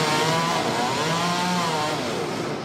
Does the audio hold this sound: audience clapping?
no